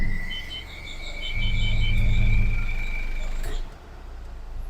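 Ford Everest with a stuck torque converter shifted into reverse, the engine's low rumble rising into a heavy strained drone alongside a steady high whine and beeping, then dropping off near the end, loud and close.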